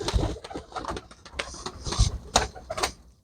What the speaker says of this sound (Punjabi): ਆ ਕਬੂਤਰ ਤਾਂ ਹੈਗਾ ਬਈ ਹਜ਼ਾਰ ਵਾਲੇ ਕਬੂਤਰਾਂ ਚ